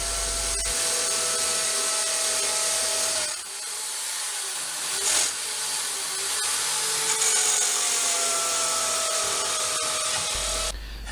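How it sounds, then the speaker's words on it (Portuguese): A power tool cuts small slots into a vertical metal tube, a steady whining, grinding rasp that holds for about ten seconds with slight dips and swells, close by and without speech. "Agora estou a abrir uns pequenos rasgos no tubo vertical"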